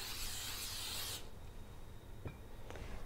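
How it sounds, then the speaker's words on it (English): Cooking spray hisses into a slow cooker in one sustained close burst lasting about a second, then stops, leaving a quiet room with a couple of light clicks. "you'll want to spray it well with cooking spray"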